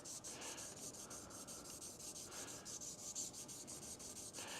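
A big-block crankshaft main journal polished by hand with a strip of ribbon soaked in WD-40, giving a faint, close, rhythmic rubbing swish in quick repeated back-and-forth strokes, no voices.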